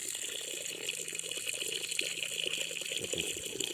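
Air and water gurgle and rush through a 3/4 inch maple sap line during cleaning, an uneven bubbling flow with soft spurts, fairly faint and close.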